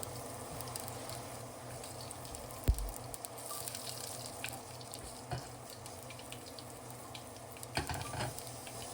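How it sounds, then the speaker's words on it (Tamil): Mustard seeds, asafoetida, a dried chili and curry leaves tempering in hot oil in a pan give a steady sizzle and crackle, close, with a few sharp pops and clatters and no talking. "அடுப்பை ஆன் பண்ணி பேனில் ஆயில் ஊற்றி கடுகு, ஒரு 2 பிஞ்ச் அளவுக்கு பெருங்காயம், ஒரு காஞ்ச மிளகாய் கிள்ளி கருவேப்பிலை போட்டு தாளிச்சிக்கிறேன்."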